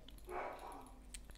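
A pet dog, worked up and excited, lets out a fairly soft bark or yip nearby, one drawn-out burst followed by quieter rustling, with no speech.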